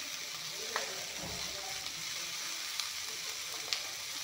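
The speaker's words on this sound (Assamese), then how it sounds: "এতিয়া ইয়াতে অলপমান গৰম পানী দি ল'ম।" Hot water hits a frying pan of tomatoes for an egg curry with peas, giving a steady close sizzle and bubbling hiss with a few small sharp pops, no voices.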